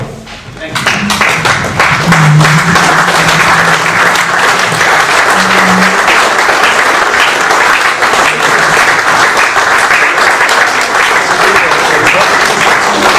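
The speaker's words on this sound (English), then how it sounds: "Would you kindly stand and join with me in applauding our top table from the hall." A large audience at an annual dinner applauds loudly and continuously, dense clapping filling a hall, with a few voices briefly audible underneath at the start.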